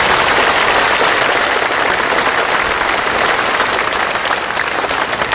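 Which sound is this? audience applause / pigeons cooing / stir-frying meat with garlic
audience applause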